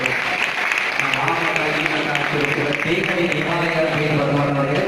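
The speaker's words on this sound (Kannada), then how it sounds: "ಚಪ್ಪಾಳೆ ವಿದ್ಯಾರ್ಥಿಗಳಿಗೆ" Audience applause for students at a Kannada literary talk with an extempore poet, a steady dense clapping wash filling the room for the whole stretch, with a murmur of voices mixed in.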